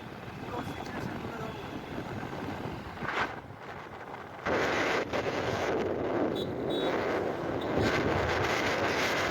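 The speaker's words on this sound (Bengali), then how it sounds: "এই যে ডান দিকে দেখো ট্রেন যাচ্ছে।" A train rumbles past on the tracks near a bridge in Bolpur, Santiniketan, growing louder and steadier midway through, with strong wind buffeting the microphone throughout.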